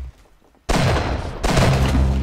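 Twin Vulcan guns in the Roblox game open fire in a sudden loud, dense burst after near silence, a continuous roaring rattle that briefly dips and then surges again, close and dominant.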